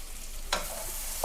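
Vegetables for a pui mituli dish, with green chilli, sizzle in a pan as a single quick stirring scrape cuts through the steady frying hiss.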